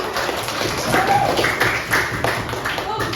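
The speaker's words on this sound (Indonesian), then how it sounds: "Boleh, tepuk tangan dulu buat kita semua." A classroom of students claps together at the teacher's request, a lively patter of many hands at close range mixed with children's voices and chatter.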